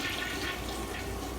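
A newly installed toilet in an old jailhouse building bathroom flushes with a steady close-up rush of water that fills the short moment, no voices.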